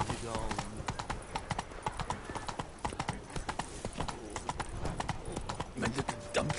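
Roach, a horse in The Witcher 3, galloping with fast, dense hoofbeats close up, driving on without pause while voices speak over them.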